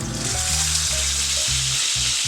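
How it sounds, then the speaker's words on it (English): A Wagyu striploin steak sears on a hot pan to rewarm its surface, giving a steady loud sizzle with a low rumbling hum underneath and no voices. "throw the steak back on, 5 seconds on each side just to get the surface warm again"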